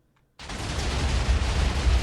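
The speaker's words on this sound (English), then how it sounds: "More explosions." Explosions from a Minecraft 1.16.5 mob battle blast in suddenly after near silence, then roll on as a sustained, loud, rumbling wash with deep booming low end, no talking over it.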